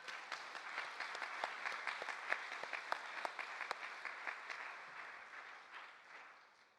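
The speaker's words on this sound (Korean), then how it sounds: "아버님께 감사의 박수를 올려드립시다." A church congregation at a combined worship service claps in thanks, a steady even wash of many hands with sharp individual claps on top, held for several seconds before slowly fading out.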